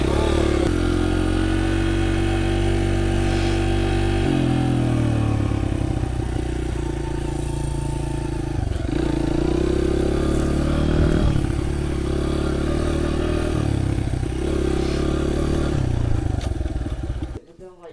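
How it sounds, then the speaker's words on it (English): Dirt bike engine running steadily while being ridden outdoors, a loud continuous motor drone with slight pitch shifts and clattering, a voice faintly under it, then cutting off at the end. "Yeah, I have a dirt bike."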